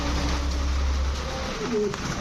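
Indian Madraji racer pigeons coo in low, soft murmurs close by, a few brief calls rising over a steady low hum, with no talk.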